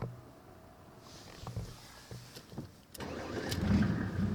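A Mercedes-Benz diesel car engine cranks briefly after a few clicks, then catches and settles into a low, steady rumbling idle, close and moderately loud.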